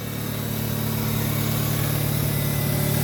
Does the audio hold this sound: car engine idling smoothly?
yes